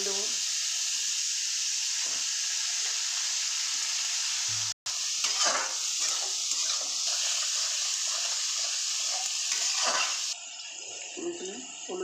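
Oil sizzling steadily in a pan while cooking egg pulao, a continuous hissing fry with occasional stirring scrapes and small clatters, fairly close and moderate in level throughout.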